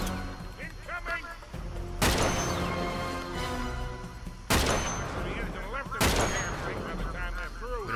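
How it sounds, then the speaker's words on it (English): Gunfire in Uncharted 3: Drake's Deception, with rapid bursts of rifle shots and heavy booming impacts at intervals, loud and close, while voices talk underneath in places. "They're firing at us"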